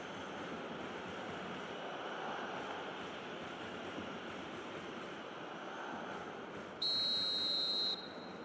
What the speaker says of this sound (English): Whistle's gone, that's foul.